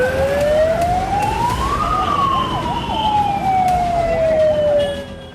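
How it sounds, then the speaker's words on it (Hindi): A loud wailing air-raid-style warning siren rises and falls in a steady sweep, close and continuous, with traffic rumbling underneath. "लगातार सायरन बज रहे थे।"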